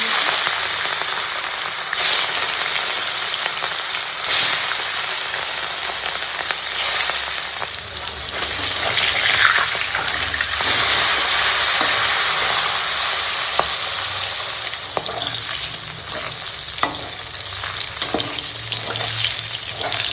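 Pieces of rohu fish fry in hot oil with a loud, constant, crackling sizzle that lasts throughout, with brief pops and occasional faint clatters.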